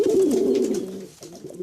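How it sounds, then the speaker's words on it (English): Soft, low pigeon cooing, a throaty rolling coo followed by a shorter one, close by with no other sounds. "you probably recognize the familiar cooing of pigeons."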